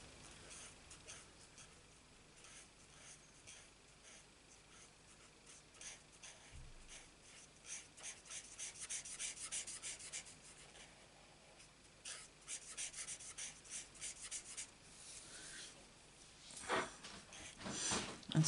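A marker pen with a worn nib rubs across paper while colouring, making soft, close, scratchy strokes that come in repeated bursts and grow busier and louder toward the end.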